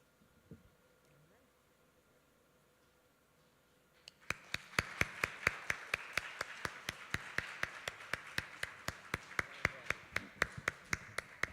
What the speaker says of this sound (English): let's go ahead and give a round of applause for our candidates